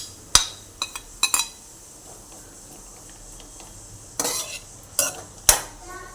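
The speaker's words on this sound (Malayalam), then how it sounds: "ഇനി ഇതിലേക്ക് നമുക്ക് ചക്കക്കുരു ഇട്ട് കൊടുക്കാം." Jackfruit seeds go into a pan of cooking beetroot, giving sharp metallic clinks and clatters of a spoon against the pan in scattered bursts, near and fairly loud with quiet gaps between.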